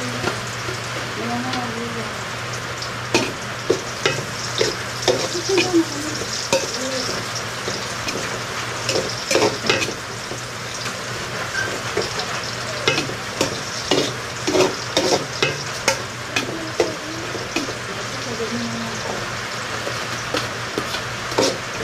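Onion and garlic sauté in a pan for Filipino chicken tinola, a continuous hiss broken by frequent clicks and scrapes of stirring, with faint background voices now and then.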